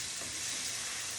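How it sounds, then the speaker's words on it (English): Broth sizzles loudly in a hot pan while making shepherd's pie, a dense, continuous frying hiss close by with no talking. "hear that sizzle?"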